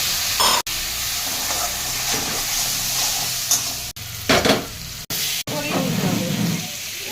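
Spices with salt, turmeric, sugar and a splash of water are sautéed and stirred in a pan for papaya and pea dal, a steady close sizzle with scraping stirs and several abrupt cuts.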